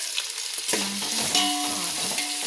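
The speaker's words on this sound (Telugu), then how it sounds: "ఇప్పుడు ఆలు, క్యారెట్, బీట్రూట్ వేస్తున్నాను." Potato, carrot and beetroot dropped into frying beans, tomato, curry leaves and sweet corn for vegetable biryani, followed by a close, brief sizzle and a stirring scrape.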